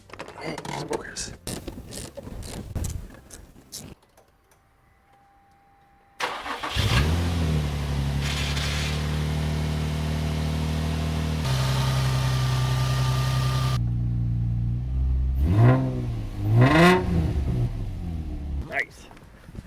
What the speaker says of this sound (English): I want to get this engine started.